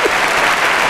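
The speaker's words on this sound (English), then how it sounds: "Can I ask you why the band's applauding you?" Brief burst of a band applauding on a business talk show set, dense clapping filling the whole moment, loud and close with no voices over it.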